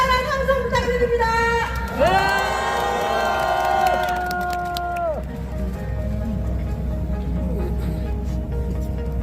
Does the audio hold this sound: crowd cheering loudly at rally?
yes